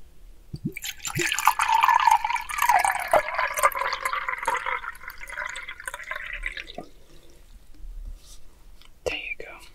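Water pours into a child's cup, a close, steady liquid stream lasting several seconds before tapering off, with soft whispering nearby.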